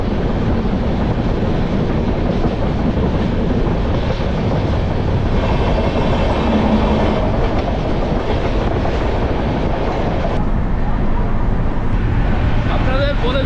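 A moving passenger train in Jharkhand heard from on board, a loud continuous rumble with rhythmic clatter of wheels over rail joints and steady roaring hiss throughout.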